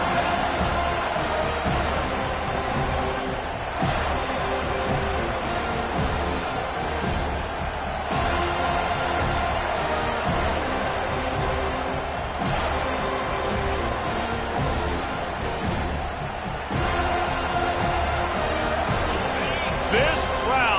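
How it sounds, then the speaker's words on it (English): Dense, loud stadium crowd roars continuously at a college football game, a steady wall of cheering with swells and brief surges throughout, and an announcer's voice running over the top. "This crowd, full throat, splitting the eardrums"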